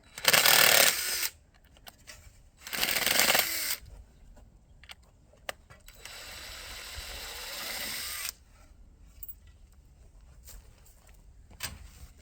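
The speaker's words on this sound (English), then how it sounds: "So just unscrewing them." A power driver unscrews boards around a block foundation for a maple syrup evaporator, in three separate whirring bursts with quiet handling noises between them and no voices.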